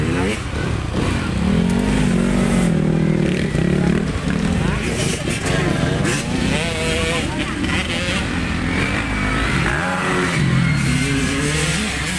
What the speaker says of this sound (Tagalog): Kawasaki ang motor ha.